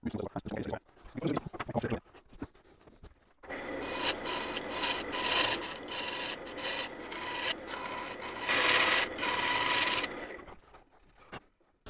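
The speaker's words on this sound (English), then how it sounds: "I've had to manually sand this down on my sanding board." An oak segment ring for an open segmented bowl is rubbed by hand across a sanding board, first in a few short scrapes, then in long continuous rasping strokes in steady rhythm, close and fairly loud.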